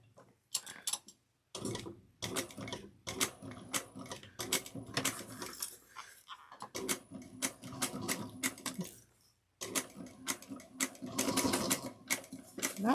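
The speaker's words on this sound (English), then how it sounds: "And then I'm going to sew this at a 3/8 of an inch." A sewing machine stitches fabric at a 3/8 inch seam, running in long busy rattling stretches broken by brief pauses, close by and steady, with no voices.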